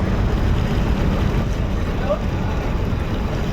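Steady low rumble of a vehicle ferry's engine as it docks at the Daulatdia–Paturia ghat, with wind buffeting the microphone, continuous and fairly loud throughout.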